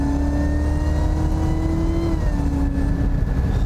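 A loud 650-horsepower sports car engine revs and holds a high, droning pitch, with tonal whine sliding slightly as the motor is pushed hard.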